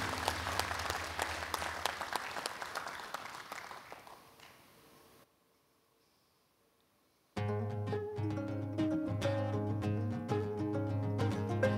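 Audience applause at the 2014 Jeonju MBC Lions volunteer award ceremony, welcoming the special performance; steady clapping fades over several seconds into a brief hush before loud stage music kicks in.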